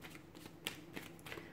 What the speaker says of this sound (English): So we'll give the cards a shuffle here and let's begin.